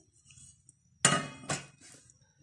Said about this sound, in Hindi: चूल्हे पर सबसे पहले यहाँ तवा रखेंगे और तवे के ऊपर एक बड़े साइज की देगची रख देंगे